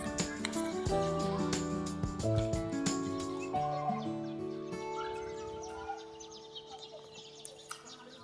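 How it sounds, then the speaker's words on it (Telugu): Sparrows chirp from a tree in the evening, with bright, scattered tweets over a faint background that fade gradually, no talking heard. "ఈవినింగ్ అయింది కదా, పిచ్చుకలు స్టార్ట్ అయ్యాయి, సౌండ్ వినిపిస్తుంది అనుకుంటా"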